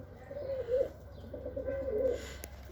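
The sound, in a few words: birds cooing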